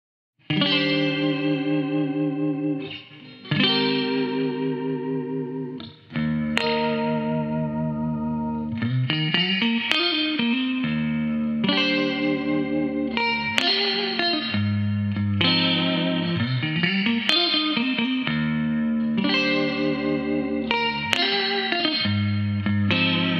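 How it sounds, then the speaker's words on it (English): Electric guitar through a tube amp with a clean, chiming tone and lush reverb plays sustained chords and melodic phrases, some notes ringing out freely before new strums. "And I'm playing through a tube amp with a clean tone and lots of reverb."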